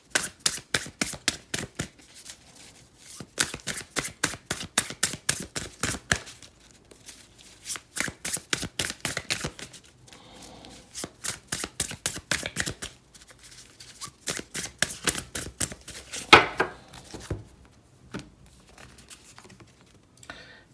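Tarot cards being shuffled in bursts of rapid riffling patter, close and fairly loud, with short pauses between rounds and no talking.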